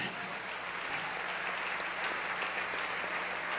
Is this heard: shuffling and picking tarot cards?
no